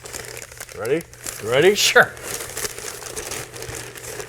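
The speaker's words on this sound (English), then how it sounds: "A lot of wrapping paper." Wrapping paper crinkling as a gift is unwrapped, a few bursts of close crumpling and tearing mixed with brief casual talk between people.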